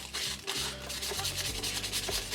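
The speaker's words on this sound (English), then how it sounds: "So this is just a piece of 220 sandpaper." A cured resin surface is roughed up with 220 grit sandpaper in quick back-and-forth rubbing strokes, a close, dry scratchy rasp that pulses with each pass.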